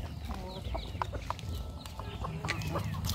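A chicken clucks repeatedly in short, close calls over a steady murmur of farmyard background noise.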